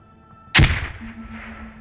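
Single sharp launch from a grenade launcher in the video game Squad, a loud close thump followed by a decaying rumble and a faint lingering tone, with no voices.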